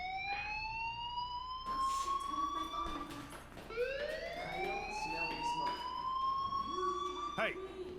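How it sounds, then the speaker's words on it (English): Fire alarm ringing in the Life is Strange video game, a repeating electronic siren-like wail that rises and falls, loud and continuous, with game sounds and voices underneath. "do you hear that fire alarm?"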